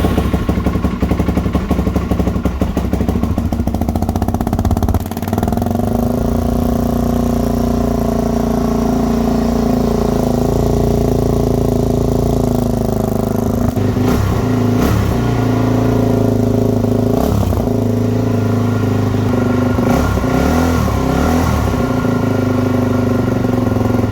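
A Suzuki DRZ400E single-cylinder dirt bike starts, settles into a loud, close, lumpy idle in neutral, and is blipped through several sharp revs.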